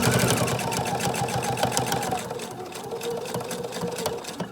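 A sewing machine stitching back and forth over a ribbon sewn onto a fabric placemat, a steady rapid mechanical whir with a faint pulsing rhythm, close and fairly quiet.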